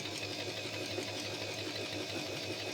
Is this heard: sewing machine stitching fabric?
yes